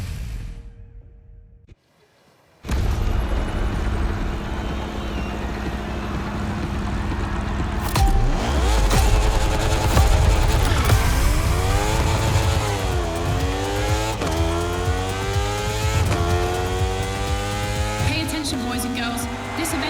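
Motorcycle racing engines in the video game The Crew Motorfest, at a Red Bull event: after a quiet start, loud sustained revving with repeated rising pitch sweeps as gears shift, close and continuous.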